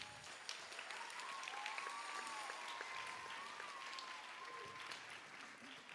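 A concert audience applauding the percussion section at an elementary school spring concert, sustained clapping from a crowd, fairly soft and distant, lasting the whole stretch with a faint tonal ring above it.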